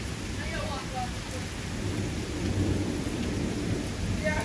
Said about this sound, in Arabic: برق ورعد لسه في